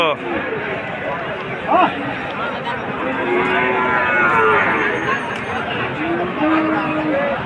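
Cattle moo at a livestock market, with several drawn-out calls rising over a steady crowd babble, while people haggle nearby.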